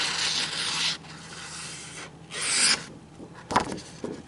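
Repeated cuts of a CRKT Hissatsu fixed blade knife through heavy-duty stock paper make three rasping, hissing strokes with pauses between them, ending in a sharper crinkle and rustle of the paper, close and clear with no talk.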